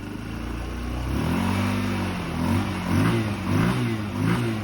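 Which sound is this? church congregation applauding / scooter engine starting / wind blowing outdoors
scooter engine starting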